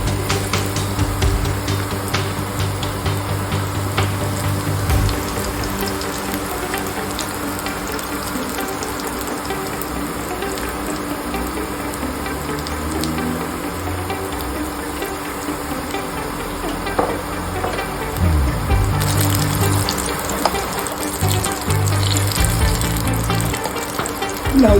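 Potato, capsicum and big chilli pakoda fry in oil in a kadai, a continuous close sizzle with occasional clinks and stirring, louder crackle bursts around the middle and end.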